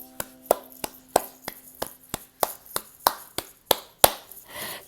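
Hand clapping during a story-time song, about a dozen sharp, evenly paced claps, close and clear, with little else underneath.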